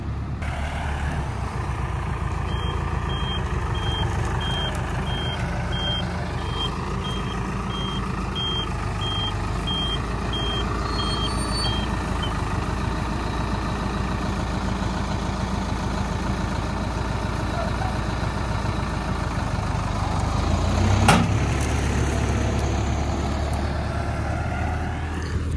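Farm tractor engine running at a steady idle, continuous low rumble close by, with a string of high reversing-style beeps in the first half and a brief clunk near the end.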